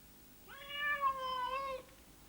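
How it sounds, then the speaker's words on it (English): A cat gives one clear, drawn-out meow at moderate distance in a quiet setting, with no talking. "It was only a cat."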